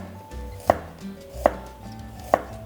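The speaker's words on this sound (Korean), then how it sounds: "오늘 당근은 좀 작기 때문에 저는 그냥 원형으로 바로 자르겠습니다" A knife slices a small carrot into rounds on a cutting board while making pickles. Three crisp, evenly spaced chops land close and clear over quiet room tone.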